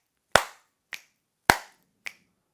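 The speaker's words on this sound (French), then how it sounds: "snap, un claquement de doigts, et clap, un frappement de main. On alterne comme ceci." Four sharp, isolated hits in a steady alternating pattern, a finger snap then a hand clap repeated, close and dry with brief silence between each, marking the beats of a group dance choreography.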